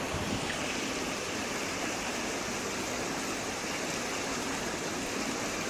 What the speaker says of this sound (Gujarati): વડિયા કુકાવાવ પંથકમાં મેઘતાંડવથી નદી નાળા બંને કાંઠે વહેતા થયા।